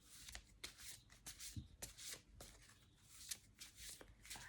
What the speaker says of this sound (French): on va déjà mélanger nos petites cartes